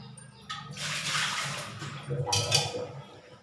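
Water sloshing and splashing in a basin as fenugreek greens are rinsed, in two bursts with brief pauses, close and moderately loud.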